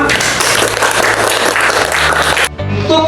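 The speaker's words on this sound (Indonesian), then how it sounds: "Kita kasih tepuk tangan" Applause from a group in a Bible lesson for presenting group 5, lively clapping that cuts off abruptly, followed by a short stretch of faint room sound and tones.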